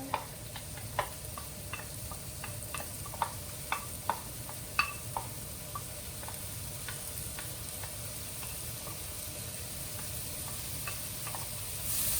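Diced onions fry gently in melted butter for char siu pork fried rice, a soft steady sizzle with scattered light ticks and pops, mostly in the first half, quiet and close, with no talking.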